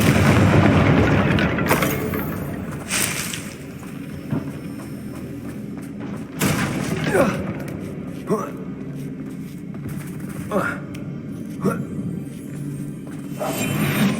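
Confringo fire spell from Hogwarts Legacy bursting in a loud boom, followed by several sharper pops and blasts scattered through the stretch, with a voice speaking between them.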